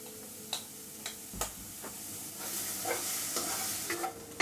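Beaten egg frying in a pan with drumstick leaves for a poriyal, a steady soft sizzle with scattered scraping taps of a spatula, close and fairly quiet, no talking.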